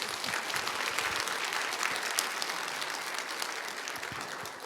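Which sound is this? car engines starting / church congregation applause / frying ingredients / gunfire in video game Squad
church congregation applause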